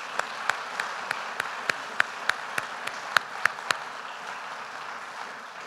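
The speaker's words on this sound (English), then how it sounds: "So let's give them all a round of applause." Applause from an audience at a college honors convocation, heard as a steady, fairly faint wash of clapping with a few sharper claps standing out near the start, fading slightly toward the end.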